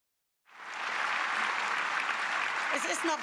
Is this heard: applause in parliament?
yes